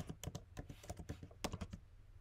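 Fingers tap quickly on a computer keyboard, a close, uneven burst of light keystrokes over a low background hum.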